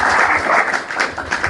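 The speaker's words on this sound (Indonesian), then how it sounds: "Host, kasih tepuk tangan host" Applause from a small group breaks out and runs steadily, dense clapping close and fairly loud with no voices over it.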